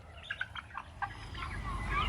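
Coloured-breed chickens on a poultry farm give a few soft, scattered clucks, faint and brief over a low background hum.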